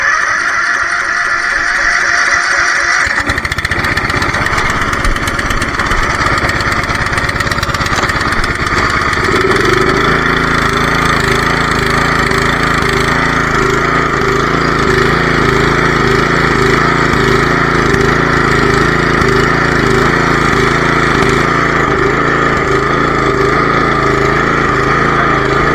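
A Dixon zero-turn mower engine starts after a short quiet moment and settles into a steady, loud, close running drone with an uneven idle, alone with no talk.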